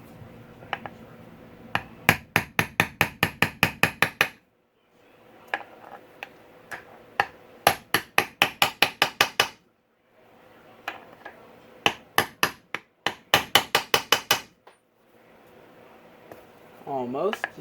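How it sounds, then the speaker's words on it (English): Metal-on-metal tapping with a socket, seating a part during a Honda CRF250R engine rebuild with new crank and piston: several fast bursts of sharp, close, evenly spaced taps separated by short pauses, ending with brief talk. "let me get a socket just the right size to tap that in"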